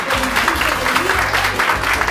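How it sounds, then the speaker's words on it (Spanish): Audience applause for a student at a school event, steady dense clapping close and loud throughout, with a low musical or voice hum running beneath. "fuerte el aplauso para Cristóbal"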